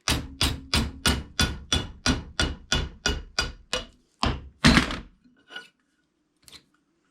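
A hammer strikes cable clamps over a 3/4 inch T-dolly to curve them, about a dozen sharp metallic blows in a steady, even rhythm, followed by a few slower, irregular taps that fade out.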